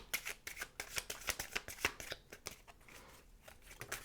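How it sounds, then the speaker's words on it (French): Osho Zen Tarot cards are shuffled in quick, rhythmic riffling bursts, close and crisp, with no talking. "Je vais tirer une dernière carte avec le Oshogun Tarot."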